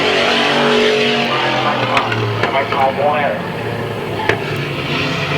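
Race cars at Midvale Speedway roar in a steady, loud engine drone on the final lap, with pitch rising and falling as cars pass and a commentator talking over the noise.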